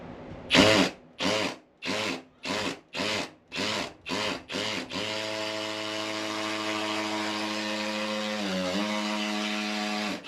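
A power drill whirs in eight short bursts, then runs continuously, winding down briefly near the end; close and loud with no talking.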